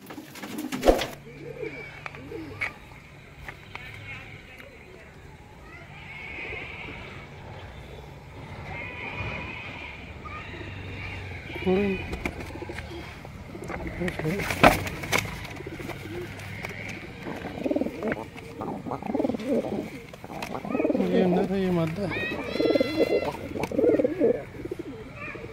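High flyer pigeons coo and flutter inside a loft in Lucknow, India, their soft calls steady and close throughout, with someone talking intermittently and some background rustling and thumps.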